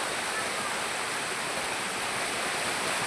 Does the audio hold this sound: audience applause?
no